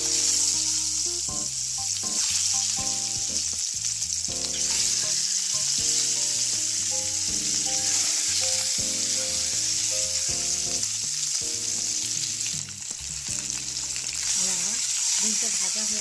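Eggs coated with turmeric and salt sizzle and fry in oil in a pan, a steady crackling hiss that runs throughout beneath a loud music track.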